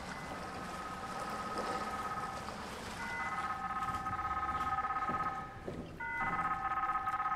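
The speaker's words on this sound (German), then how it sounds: "Telefon." Telephone ringing in the sci-fi horror game SOMA, a steady electronic tone repeating in bursts over a low ambient hum, fairly clear and uninterrupted by talk.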